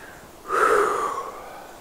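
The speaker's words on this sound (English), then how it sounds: "breathe in" A single deep breath drawn in slowly through the upper abdomen, a soft airy inhale swelling over about a second and trailing off gently, close and quiet with no talking.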